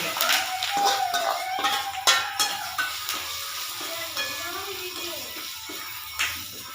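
Vegetables being stirred in hot oil during tempering, giving a steady close sizzle with repeated scraping and clattering stir strokes against the pan, and no talk.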